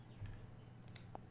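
Mouse clicks on two tiles in a Flutter app demo: a few faint, brief clicks scattered over a low steady hum, with no voices.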